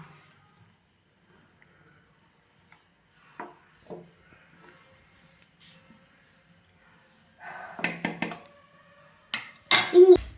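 A spoon stirs food in a cooking pan, giving a few soft scrapes and brief metallic clinks spread across a mostly quiet stretch, with a louder clatter near the end.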